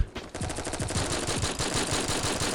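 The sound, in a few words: gunfire from video game Forward Assault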